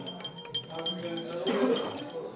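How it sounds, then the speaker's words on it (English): A small teaspoon clinks against a tea cup in a Turkish restaurant as the tea is stirred, giving several light, bright taps that ring over a murmur of restaurant voices and background clatter. "Give that a nice little stir with this cute little spoon"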